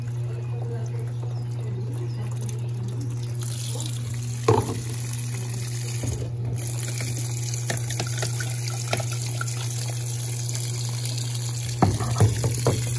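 Water pours steadily into the tub of a Brastemp washing machine as it fills, a constant close rushing flow with a few small knocks and clatters near the end.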